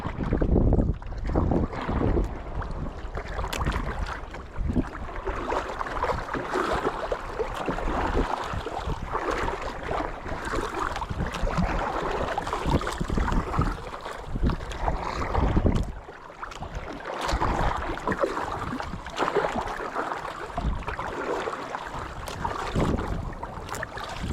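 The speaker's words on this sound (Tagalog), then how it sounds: "Nadala talaga tayo ng hangin." Loud, continuous wind roars across the microphone at sea during fishing, with surging gusts and the wash of water throughout.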